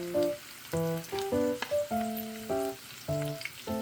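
Canola oil crackles and sizzles steadily in a hot pan as a lettuce pancake fries, while clear musical notes play over the frying.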